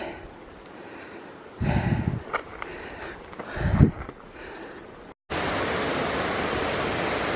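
A mountain stream cascade on the Mount Whitney trail at about 9,900 feet altitude, a steady broad rushing roar of falling water that swells loud and close near the end, after quieter moments with a couple of breathy bursts.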